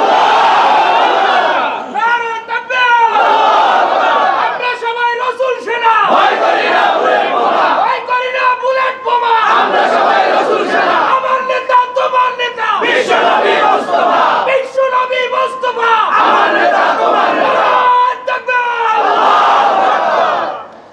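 A large crowd roars a slogan back in loud, rhythmic bursts answering the Nara-e Takbir call, with about seven surging chants separated by brief pauses.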